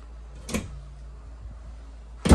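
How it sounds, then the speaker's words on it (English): A deep pots and pans drawer in the kitchen of a 2023 Grand Design Transcend 221RB travel trailer slides and thuds shut twice, a soft knock followed later by a louder, sharper close over faint background hum. "Nice deep pots and pans drawer."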